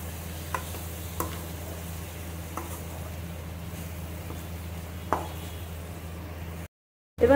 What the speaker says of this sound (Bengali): এবারে এর মধ্যে দেবো আদা পেস্ট, দিয়ে দেবো মশলাটা ইয়েলো পাউডার, জিরা পাউডার আর চিলি পাউডার। বেশ করে কষে নেব।